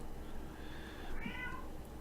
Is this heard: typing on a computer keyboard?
no